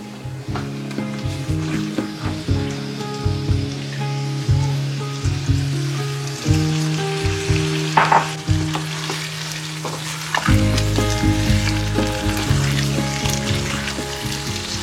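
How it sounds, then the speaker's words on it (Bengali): Marinated chicken hits fried onions in a hot pan for chicken rezala, setting off a loud, continuous sizzle with repeated scraping stirs and clunks of the spoon throughout. "এবার ম্যারিনেট করে রাখা চিকেনটা আমি অ্যাড করে দিচ্ছি।"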